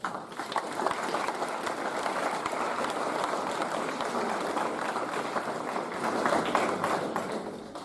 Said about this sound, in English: For now, to say thank you, we give them a round of applause.